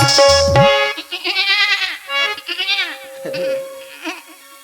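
A human voice imitates a goat's bleat with wavering, quavering cries, repeated several times in short bursts, close and fairly loud.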